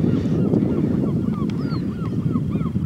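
Geese honk in a loose series of short nasal calls over steady outdoor rumble and noise, the calls moderately near and repeating irregularly.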